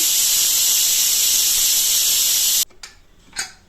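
A pressure cooker whistle blows a loud, continuous, close steam hiss while dal and tomato cook, then stops abruptly, leaving a few softer puffs of steam afterward.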